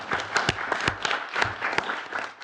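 Social Work Services Committee members applaud Moira at a council meeting, a short burst of scattered, uneven clapping from a small group in a room, fairly close and fading toward the end.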